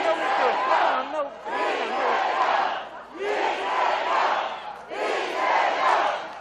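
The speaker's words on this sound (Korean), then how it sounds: "이렇게 손들어서 함께 환호해 주신 분 처음이었습니다" A crowd with raised hands at Lee Jae-myung's presidential campaign rally in Yangsan roars in four loud, rising bursts of cheering, separated by brief dips.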